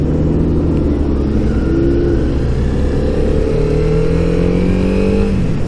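A CB300R motorcycle engine runs and revs on a ride, a steady loud rumble close by with rising and falling pitch as the throttle changes, and no voices.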